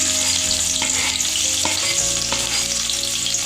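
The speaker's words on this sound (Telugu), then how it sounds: "పొయ్యి మీద మళ్ళీ బాండీ పెట్టుకొని కొంచెం నూనె పోసుకొని బాగా వేడెక్కిన తర్వాత ఉల్లిపాయలు వేసుకోవాలి." Onions frying in well-heated oil in a kadai for a spicy chicken gravy, producing a loud, dense, unbroken sizzle close up with faint stirring knocks.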